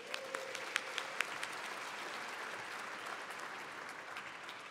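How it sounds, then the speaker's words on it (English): Steady applause from a crowd at a gala, with a few sharper claps standing out near the start. It is moderately loud and continuous throughout. "so round of applause again for them"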